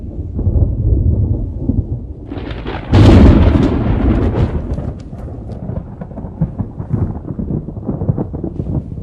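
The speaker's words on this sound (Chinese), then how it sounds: "暴风雨就要来了" A deep, loud thunder rumble from an approaching storm, rolling in with a sharp crack then slowly fading into a lingering low growl, heard alone without voices.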